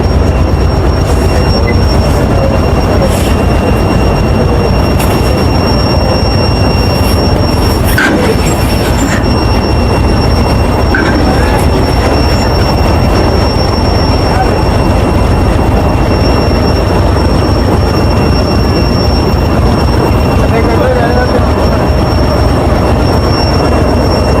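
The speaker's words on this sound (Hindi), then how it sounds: "लोकोमोटिव अटैच होने के लिए आ रहा है" A Pakistan Railways locomotive rolls in to couple onto a train on a rainy day, a loud, continuous rumble of wheels on track with scattered squeals and clanks, close by.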